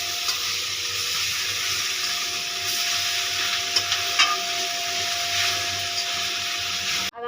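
Raw jackfruit tossed with masala in a pan for a Konkani-style jackfruit bhaji gives a steady, close sizzling hiss. Soft scrapes and small clicks from the stirring run through it, and no one speaks.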